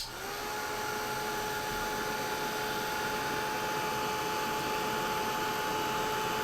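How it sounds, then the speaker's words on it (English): A Ranger heat gun runs steadily at close range, a constant whirring fan drone with a thin steady whine from start to finish. "Heat gun. This is from Ranger."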